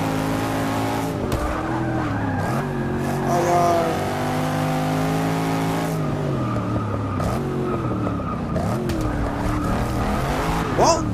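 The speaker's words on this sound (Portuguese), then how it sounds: "Aí é tanto barulho que os carros fazem." A Chevrolet Camaro Z/28 2015 and rival race cars in Forza Motorsport 6 howl through rising and falling revs, with repeated tire squeals and skids, all loud and close throughout.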